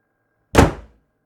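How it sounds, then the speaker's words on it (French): A single heavy knock bangs against a door, one loud, close, deep thud that rings briefly and dies away into silence. "Le premier coup, la porte a tremblé."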